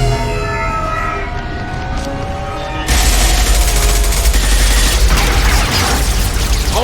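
Mass Effect 2 firefight: a low, steady battle drone gives way after a few seconds to loud, continuous crackling gunfire and rumbling impacts that persist to the end.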